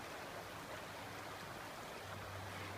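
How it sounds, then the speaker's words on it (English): Large river running in flood, swollen and off-colour where a smaller river flows into it, heard as a steady broadband rush of water with no break, close and fairly loud throughout. "this is where the river that I was following before actually flows into this really big river"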